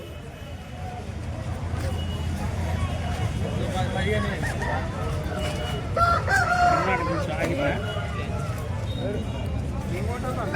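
Rooster crowing and hen clucks amid busy crowd chatter and bustle at a poultry market in Kothagudem, Bhadradri Kothagudem, with people bargaining nearby throughout.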